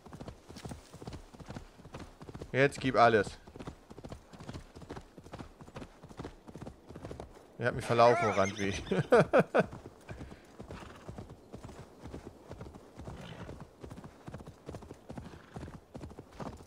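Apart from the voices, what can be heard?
horse galloping in a video game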